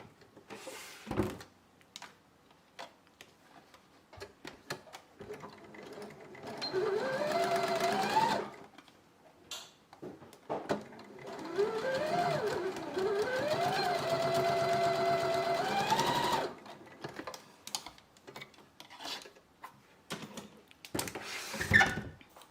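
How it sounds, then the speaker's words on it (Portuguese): A sewing machine runs in two long steady bursts as it stitches two pieces of fabric together for a hair towel cap with bias binding, with brief handling clicks and pauses before, between and after. "E vou passar uma costura aqui, ó, juntando, unindo esses 2 tecidos"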